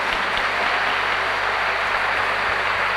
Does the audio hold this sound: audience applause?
yes